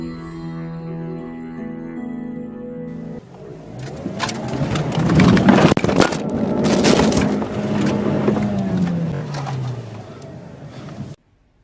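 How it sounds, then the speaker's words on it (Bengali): An enraged rhinoceros charges and crushes a car: after a few seconds of steady tonal sound, loud crunching, banging impacts and scraping metal erupt up close, then cut off abruptly. "একটি ক্ষিপ্ত গন্ডার হঠাৎ করে গাড়িতে আক্রমণ করলো।"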